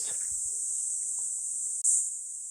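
Crickets chirp in a continuous high shrill drone on a summer evening in Kanazawa, Japan, a steady insect chorus with a brief dip and a few faint thumps underneath.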